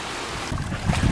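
Waves roll onto a beach in the wake of a passing ship, a steady rush of water and surf with wind buffeting the microphone, no voices.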